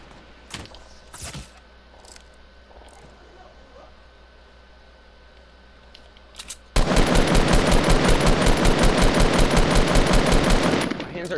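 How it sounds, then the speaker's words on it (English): Fortnite gunfire: a few scattered single shots and faint talk at first, then a long, loud, rapid automatic burst pounding steadily for several seconds. "You keep shooting at them, Quetix, and I'll shoot them from here."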